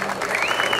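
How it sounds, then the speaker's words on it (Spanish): Brief burst of audience applause at the singles final of the 10th Manta Open tennis tournament, dense clapping from the stands under a faint tonal whine. "Fuerte entonces el aplauso."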